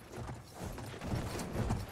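A horse gallops in Battlefield 1 with steady, fairly loud hoof clip-clop, mixed with game background noise throughout.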